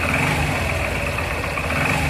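A motorcycle engine, apparently suspected of seizing, runs with a light, steady rev close by, producing a continuous, slightly rough mechanical drone with no voices heard.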